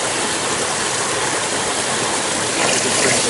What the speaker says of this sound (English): So we've got two nozzles coming in on this Turgo wheel under here.